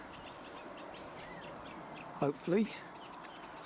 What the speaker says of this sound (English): sedge warblers in here.